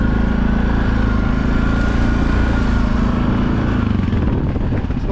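A Suzuki KingQuad 750 ATV engine labors up a small ditch, a loud close continuous growl with heavy low rumble and wind buffeting that eases slightly near the end.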